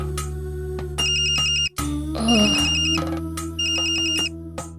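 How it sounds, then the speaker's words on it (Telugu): An iPhone ringtone plays a looping electronic melody with bright beeping tones, loud and close, briefly cutting out before resuming. "కాల్ వస్తుంది, ఇప్పుడు ఏం చేయాలి?"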